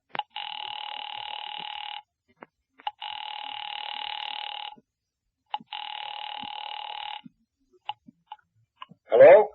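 An old-style telephone rings in three long buzzing bursts with short gaps, followed by a few clicks and a brief voice at the end.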